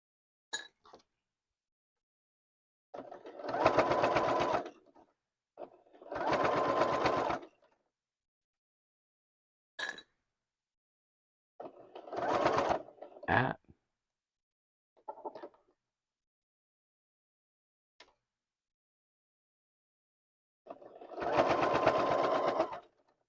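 A sewing machine stitches a stand mixer cover in bursts of steady whirring, several runs of a few seconds each separated by quiet pauses and small clicks, close and clear with no talking.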